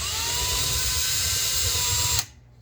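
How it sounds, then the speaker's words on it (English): A power drill drives screws through a garbage disposal box into a kitchen cabinet, whining at a steady, loud pitch close by for about two seconds before cutting off abruptly, leaving near silence. "Push it hard against the wall so it screws the box to the cabinet."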